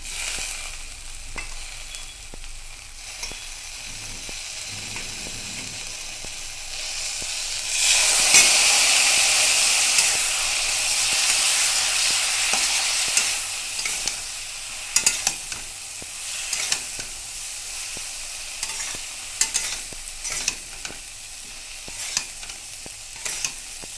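A ground paste of chilli, ginger and cumin hits a hot pan for a kochur loti dish, and the sizzle swells loudly before settling into a steadier fry broken by frequent sharp stirring clicks.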